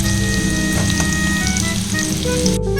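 Loud, continuous sizzling of potatoes and soya chunks frying in a hot pan, with crackling bubbles and a faint scrape near the end.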